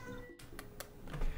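A cat meows a few short times in the middle of Final Fantasy XV gameplay, heard close over a steady low game background with no talking.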